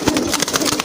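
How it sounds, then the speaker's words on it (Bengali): Large red Bombay pigeons cooing in their coop, a loud close burst of throaty coos with soft wing or body movement beneath. "এই যে দেখেন মাশাআল্লাহ দুইটা কবুতরের সাইজ কিন্তু বিশাল, আর কালারটা কিন্তু টকটকা লাল"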